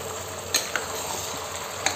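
Offal masala of liver, tripe and fat stirred in a pan over low gas: a steady soft sizzle with a few sharp scrapes of the spoon against the pan.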